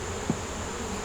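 Honey bees swarm over a hive frame, giving a steady, dense buzzing drone that stays level throughout, with one brief soft knock near the start and no voices.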